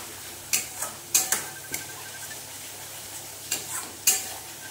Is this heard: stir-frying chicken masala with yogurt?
yes